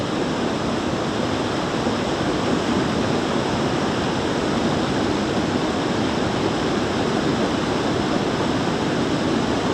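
Waterfall throwing off mist, a steady broadband rush of falling water with no breaks or changes in level, fairly loud and uniform throughout.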